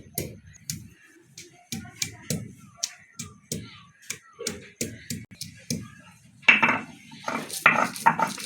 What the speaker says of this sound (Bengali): রসুনটা বেটে নেব